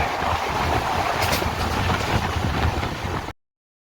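Double Decker Express from MGR Chennai Central to KSR Bengaluru rushing past at close range, a steady loud broadband roar of wheels and carriages that cuts off abruptly near the end.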